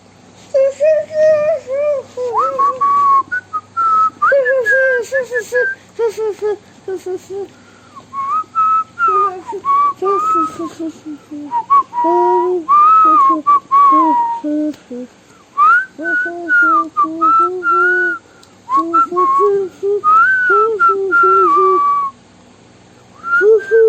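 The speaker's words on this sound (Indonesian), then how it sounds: "Bersiul-siul begitu." A person whistles a long, wandering tune close by, phrases broken by short pauses over about twenty-four seconds, loud and alone.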